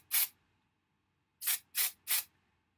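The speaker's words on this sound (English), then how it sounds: "spray it right on into the scalp" Hair product is sprayed onto the scalp from a spray bottle: one short hissing burst, a pause, then three quick bursts in a row, close and crisp against near silence.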